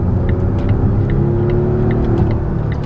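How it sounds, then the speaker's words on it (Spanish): A Volvo XC60 T8 plug-in hybrid overtaking in hybrid mode gives a steady, close engine and road drone that holds a low rumble throughout, with no voices. "acabo de hacer un adelantamiento en modo híbrido"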